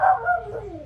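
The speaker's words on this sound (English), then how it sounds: "That's my dog." A dog gives one brief, close bark, with a short spoken word nearby.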